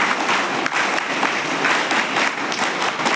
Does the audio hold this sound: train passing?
no